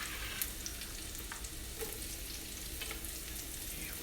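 Scallion onions frying in a pan, a fairly faint, even sizzle with a few soft crackles, steady throughout and heard without talk.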